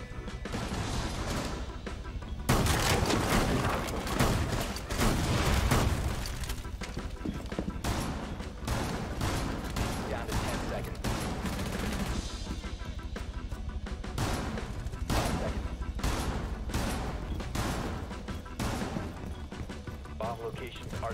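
Gunfire in Rainbow Six Siege, repeated bursts of shots in a dense, loud barrage running throughout, with brief pauses and crashing impacts, mixed with game sounds.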